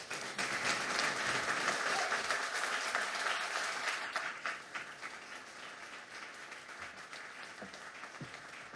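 An audience applauds Ambassador Haley as she comes to the podium, a dense, steady wash of clapping from a large crowd that fades slightly toward the end.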